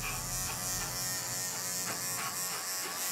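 An electric Bravura clipper buzzes steadily and close up while grooming a Shih Tzu, its motor hum continuous with no talking, the pitch staying even throughout.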